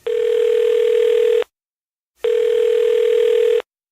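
A telephone ringback tone sounds for an outgoing call: two loud, steady electronic rings of about one and a half seconds each, separated by a short silence, clean and close with nothing else audible.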